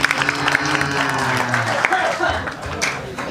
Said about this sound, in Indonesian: tepuk tangan buat nak Bali